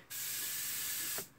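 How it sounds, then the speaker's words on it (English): A spray bottle mists growing microgreens with a single steady, close hiss that lasts about a second and ends abruptly, with no voices. "Just a quick spray."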